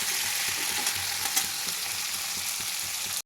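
Vegetables fry with black cumin in refined oil for chowmein, a dense steady sizzle close to the pan with faint stirring taps beneath it, ending abruptly.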